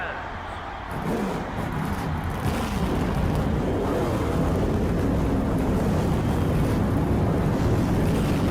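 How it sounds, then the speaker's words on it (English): Stock car engines start up together at a race, a sudden rise into a loud, sustained roar of many idling motors that holds steady throughout. "The engines are fired and the drivers are fired up as we get ready for this 10-lap battle here at Big Block Speedway."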